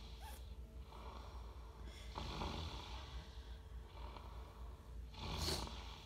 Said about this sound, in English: She's even snoring.